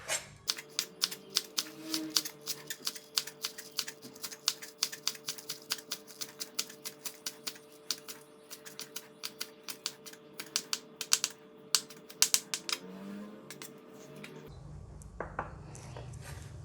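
Knife chopping scallions finely on a cutting board, a rapid, steady run of close, crisp taps continuing for many seconds with a faint hum beneath, ending in a brief rustle.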